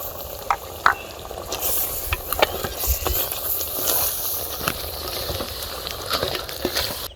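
Spices frying in oil in a pan for Tirunelveli village-style chicken curry, a steady close sizzle and hiss with a few sharp crackles and stirring scrapes throughout.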